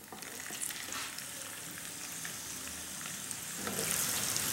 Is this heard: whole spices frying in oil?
yes